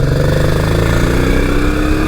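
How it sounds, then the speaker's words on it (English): A Honda Africa Twin XRV650 motorcycle with over 73,000 km on it runs steadily while being ridden, giving a loud, continuous engine drone with no clear revving. "The engine actually feels pretty good."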